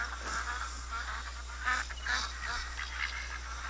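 Ducks honk and quack repeatedly on water in theHunter: Call of the Wild, a busy flock calling at a distance over a low steady hum.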